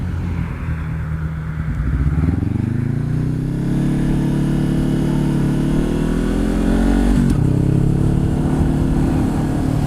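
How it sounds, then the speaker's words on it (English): A truck passes close by, its engine rising in pitch as it accelerates, then a steady loud roar, with no speech. "Just gotta wait for this truck to pass and then I can safely turn."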